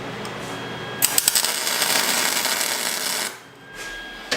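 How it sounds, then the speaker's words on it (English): A welder running without shielding gas makes a loud, harsh crackling buzz for about two seconds, starting with a few sharp pops and stopping abruptly, close by. "I didn't have the gas on the welder. That was my bad. That's why it welded like poop."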